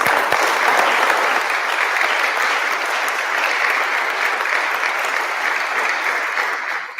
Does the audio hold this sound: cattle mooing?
no